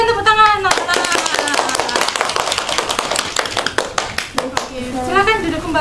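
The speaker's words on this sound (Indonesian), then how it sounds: "Berikan tepuk tangan." Students applauding in a classroom, a burst of dense, loud clapping that runs for several seconds, with voices heard at the start and end.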